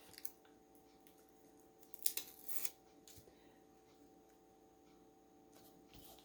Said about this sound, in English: just take your little thread scissors and snip them off